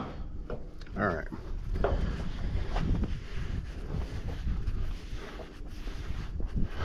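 Wind gusts outdoors at a trucking stop, buffeting the microphone with low rumbling bursts that rise and fall under a man's speech, fairly close and persistent throughout.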